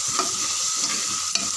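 Tomato rice masala with chilli powder sautés in a pan, giving a steady bright sizzle broken by a couple of soft scrapes from stirring, close up and with no voices.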